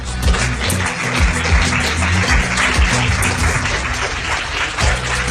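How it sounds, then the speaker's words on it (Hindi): An audience claps for Sanam on a TV show, a steady, dense burst of applause with a low rumbling backdrop that holds evenly for several seconds. "सनम के लिए जोरदार तालियां।"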